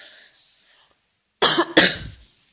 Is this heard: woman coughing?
yes